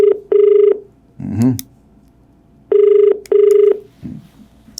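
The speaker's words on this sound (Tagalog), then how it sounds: "Ang inyong napapakinggan ng pagre-ring ay telepono po yan" A telephone ring-back tone sounds in two pairs of steady beeps, with brief faint noises between them.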